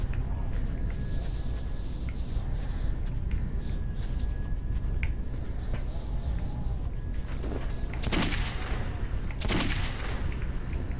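Gunfire from the Metro 2033 video game, rapid shots crackling through a steady background with two sharp, louder bursts near the end.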